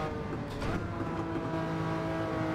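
Mazda 787B race cars in Gran Turismo 7, a steady loud high-pitched engine drone with a brief whooshing pass as a pair of cars goes by, no talking.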